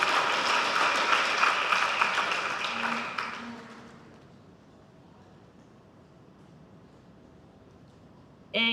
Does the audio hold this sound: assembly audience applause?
yes